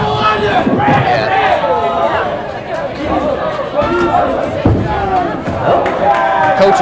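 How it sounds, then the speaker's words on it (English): Crowd at a high school bowling match cheering and chattering steadily, a dense babble of many voices with shouts rising and falling throughout. "they're cheering him on"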